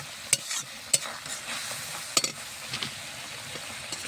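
Shrimp are fried in spiced oil under steady sizzling, with sharp scraping clinks of a spatula stirring against the pan every second or so, close and clear, without talk.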